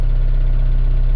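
A boat's diesel engine idles as it warms up, a steady close low throb with an even, rapid mechanical pulse and no other sounds.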